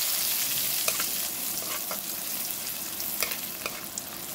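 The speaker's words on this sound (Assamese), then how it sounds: "মছলাখিনি ভালদৰে ভাজি ল'ম" Spices for chana dal fry in a pan with a steady, soft sizzle, broken by occasional brief scrapes of stirring, close and alone with no voices.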